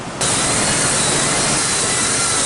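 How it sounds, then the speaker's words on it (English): A power sander works steadily across OSB subfloor joints, a loud, continuous broadband whir that kicks in after a brief quieter start and holds even throughout. "All we're doing now is just sanding down those joints."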